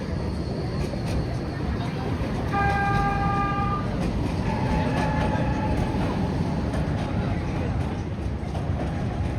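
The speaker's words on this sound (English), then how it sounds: "There's the metro going to Hospital de São João." A Porto metro train bound for Hospital de São João passes close by in Gaia, its rolling rumble steady throughout. A sustained multi-tone horn sounds for about a second, and voices murmur underneath.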